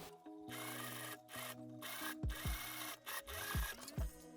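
A sewing machine stitches a dress seam in quiet, intermittent runs, its motor hum stopping and starting between short bursts of stitching with occasional soft thumps.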